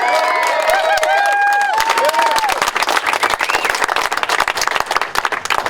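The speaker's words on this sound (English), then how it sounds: "Let's give them a round of applause again." A crowd at an outdoor union rally for Amazon workers in San Francisco claps and cheers, a dense burst of applause with whistles and shouts rising and then thinning into scattered claps toward the end.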